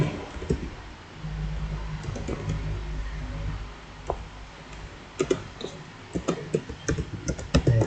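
Keys clatter steadily on a computer keyboard while PHP code is typed, with soft continuous typing that becomes sharper, louder clicks and a few separate keystrokes toward the end.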